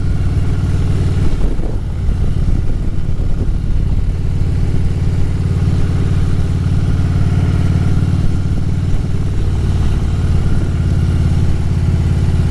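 Motorcycle engine running loud and close as the bike rides along and slows into a lakefront park beside Lake Michigan, a steady low rumble with a brief dip in revs early on and no voices.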